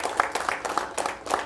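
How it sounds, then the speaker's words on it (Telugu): Audience applause at a GBN business networking meeting, a brief patter of many hands clapping at moderate distance. "దయచేసి ఒకసారి గట్టిగా చప్పట్లతో సన్మానించాల్సిందిగా కోరుతున్నాను"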